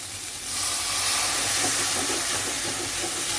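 Stock is poured into a hot pan of masala for shredded chicken macaroni, setting off a loud, broad steamy hiss and sizzle that swells after the first half second and holds steady.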